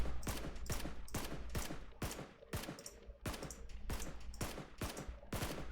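Rapid gunfire in PUBG, about a dozen sharp loud shots in an uneven rhythm across a few seconds, each crack ringing out briefly, with no voices.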